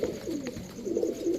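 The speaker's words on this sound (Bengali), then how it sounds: "এই যে ওমান 128-এর সিঙ্গেল একটা মাদি কবুতর।" A female Teddy pigeon of the Oman 128 line coos close by in a soft, continuous run of low rolling calls, steady and unbroken, with no voices.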